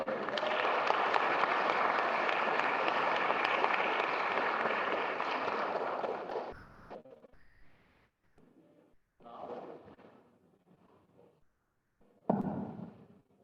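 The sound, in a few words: audience applause for the performers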